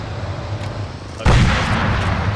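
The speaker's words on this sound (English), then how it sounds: "Can't hear you over the explosion." A sudden loud explosion in the video game Operation Boa booms partway through, followed by a sustained roaring rumble over a noisy background.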